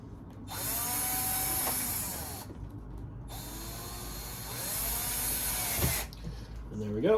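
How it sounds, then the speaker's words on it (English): A power drill drives screws into a Kydex press frame, two sustained whirring runs of about two seconds each, close and fairly loud, separated by a brief pause, with a shorter mechanical burst at the end. "now we're going to start screwing this all together"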